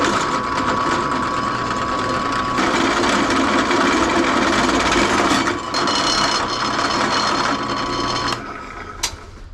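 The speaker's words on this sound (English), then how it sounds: "on my Harbor Freight drill press" A Harbor Freight drill press runs loud and steady for about eight seconds, its motor whine and grinding cut broken by brief dips before it winds down near the end.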